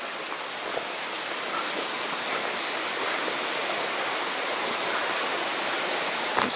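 Water in a creek near an old mine site rushes steadily and fairly close, a constant broadband hiss with no voices.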